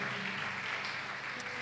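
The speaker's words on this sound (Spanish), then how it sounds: "Dale un aplauso al Señor" A church congregation applauding, a faint, steady wash of clapping from a crowd at some distance, with no clear voices over it.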